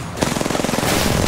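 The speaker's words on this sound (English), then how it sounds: "Shoot out! I'm shooting the team that's shooting in the back." Rapid automatic gunfire during an Apex Legends shootout, a quick rhythmic burst of around a dozen close shots followed by a louder crack at the end, with no talking.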